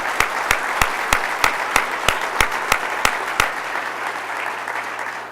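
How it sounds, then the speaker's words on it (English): An audience claps for police officers and firefighters at a county government speech, a steady crowd applause with a few sharp, regular clap accents that fades toward the end. "Let's give them a round of applause."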